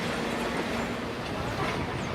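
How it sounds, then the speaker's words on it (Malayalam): A PeruRail train pulls away along the tracks on the route toward Machu Picchu, giving a steady, continuous rumble of wheels and rolling stock that holds at an even level throughout, with no voices over it. "പെറു റെയിലിന്റെ ട്രെയിൻ കാഴ്ചയിൽ നിന്നും മറയുകയാണ്."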